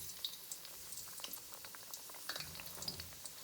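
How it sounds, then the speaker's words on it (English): Eggplant deep frying in hot oil gives a soft, steady bubbling crackle with scattered small pops, faint and close, with no voices. "Here we have hot oil for our eggplant. We're gonna deep fry the eggplant."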